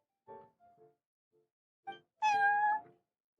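Prince, a cat at the Cat's Tail tavern in Genshin Impact's Genius Invokation TCG, gives one clear, drawn-out meow near the end, preceded by a few shorter, softer chirping calls.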